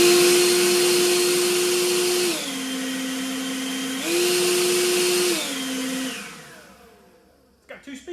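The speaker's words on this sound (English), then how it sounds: "So let's see if this thing will blow the shop out" Cordless battery blower whirring loudly in a shop, stepping between low and turbo speeds twice before winding down, then a few clunks at the end.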